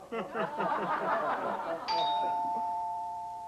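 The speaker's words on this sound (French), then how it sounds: "Pas encore cette satanée sonnette de minable." Voices murmur briefly, then a two-tone doorbell chimes once and rings on, fading slowly after the talking stops.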